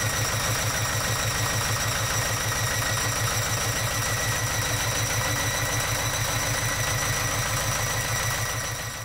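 A sailboat's inboard engine idles steadily and close by after its fresh-water pump was refitted, a rhythmic low chugging with a constant mechanical hum and no voices.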